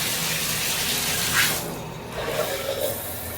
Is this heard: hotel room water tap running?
yes